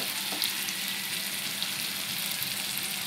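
Capsicum cooking in hot oil with turmeric for an egg bhurji, giving a steady, close, dense sizzle and frying crackle that continues without a break.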